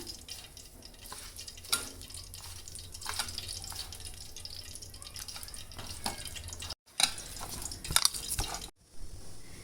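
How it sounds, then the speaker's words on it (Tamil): Rava dough for thattai is kneaded by hand with water, giving soft wet squelches, slaps and drips in an irregular rhythm, close and fairly loud, with brief pauses. "நம்ம தண்ணி சேர்த்து கொஞ்சம் சப்பாத்தி மாவு போல் நல்லா பிசைஞ்சிக்கலாம்"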